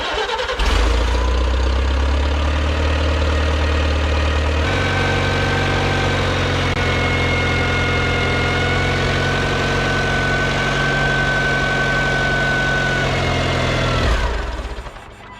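A Farmall C tractor engine labouring under load while pulling a junk Dodge, a loud, steady low drone with a deeper heavy tone early on, then a higher, strained pitch before it cuts off near the end.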